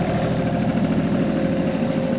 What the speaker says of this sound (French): Là c'est un petit Volvo qui ronronne.